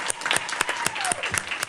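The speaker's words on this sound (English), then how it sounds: "Give them a big round of applause" Scholars are honoured at a school district meeting as a roomful of people applaud, dense overlapping claps with a few louder standout hits, steady and close throughout.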